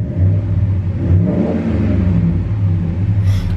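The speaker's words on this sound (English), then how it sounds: "Let's go ahead and give it a little gas here. Nice healthy motor." A 2012 Ram 1500 Laramie Longhorn engine revs with a deep, close rumble that holds steady and loud for several seconds, with no talk over it.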